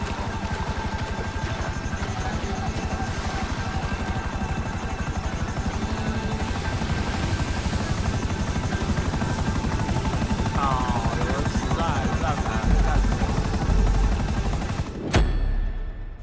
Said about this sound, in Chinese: 啊，直升机都冒烟了。